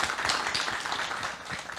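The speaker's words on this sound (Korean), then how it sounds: "우리 형에게 박수 한번 부탁드리겠습니다" An audience at a Korean book talk applauds with fairly quiet, even, continuous clapping that holds steady for a moment.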